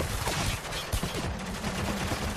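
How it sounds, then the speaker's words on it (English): Enemy gunfire at the player in Spec Ops: The Line, a dense continuous barrage of shots and bullet impacts, loud and close throughout the short stretch, with no talk. "Oh man, I'm getting shot like crazy."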